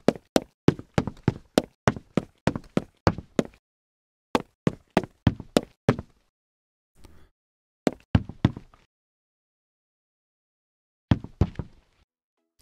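Game character footsteps from an Unreal Engine 5 MetaSound setup patter in quick, crisp runs of evenly spaced steps, pausing and restarting several times with silence between bursts.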